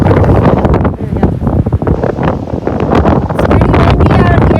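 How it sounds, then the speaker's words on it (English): Strong, gusting wind at a rocky campsite on Karl Lake in Temagami on a summer day, roaring steadily into the microphone with rustling trees, loud and close throughout. "It's pretty windy out here."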